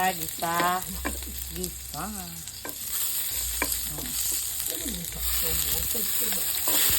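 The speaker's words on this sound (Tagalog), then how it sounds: "Gisa isdaki na ta." Sautéing in a pan while cooking garden eggplant gives a steady sizzle with occasional spatula scrapes, close by, with someone speaking over it at times.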